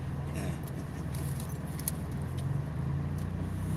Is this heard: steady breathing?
no